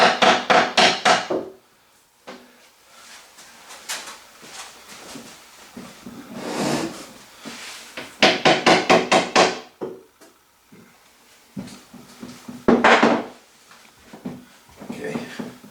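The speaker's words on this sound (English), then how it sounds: "You might just need to tap it with a hammer" A hammer taps a wooden workbench part into alignment, repeated sharp knocks in quick bursts with pauses between, close by, while a person talks alongside.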